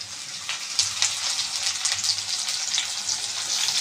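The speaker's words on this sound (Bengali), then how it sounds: "পেঁয়াজ রসুনের সঙ্গে এই শুটকিগুলো একটু ভেজে নেব আমি।" Dried shrimp sizzles in hot oil with already-fried onion and garlic, a dish made with bottle gourd leaves; a steady, close crackling hiss runs throughout with small spits and pops and no voices.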